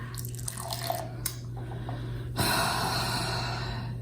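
Beer trickles and drips into a glass, then a fuller, louder pour rushes in steadily, close by.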